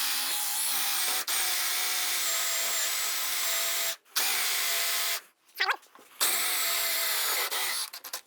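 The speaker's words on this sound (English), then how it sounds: "That is where we're going to drill out with our 1 inch Forstner bit." A drill with a 1-inch Forstner bit whines steadily through wood for several seconds at a time, stopping briefly twice before starting again; loud and close.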